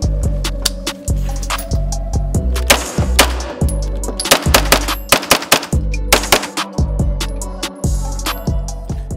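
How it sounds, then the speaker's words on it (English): A handgun from a collection of guns kept in a safe is fired rapidly at close range, a long run of loud, sharp shots with short pauses between groups and no talking. "I haven't shot this one out of the John Wick safe."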